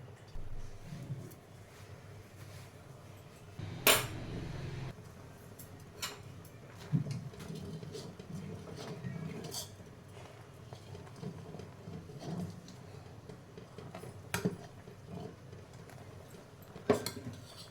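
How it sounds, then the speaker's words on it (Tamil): A spoon stirs vermicelli payasam in a pot, with soft scrapes and a few sharp metallic clinks against the rim spaced through a quiet stretch, close and without speech. "நல்லா அந்த சேமியா நல்லா கொஞ்சம் வேகிற வரைக்கும் நல்லா கிளறினே இருக்கணும்"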